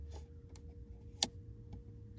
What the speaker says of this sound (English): So when it's fully open, it clicks, and when it's fully closed, it clicks.